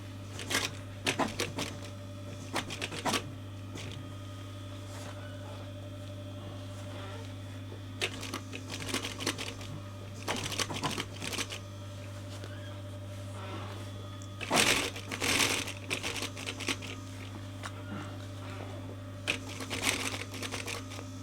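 Sewing machine top stitching a curved insert panel on a VW T5 Transporter front seat, slow mechanical clatter in short intermittent bursts over a steady low hum, close and fairly quiet, no talking.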